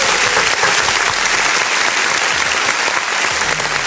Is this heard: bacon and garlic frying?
no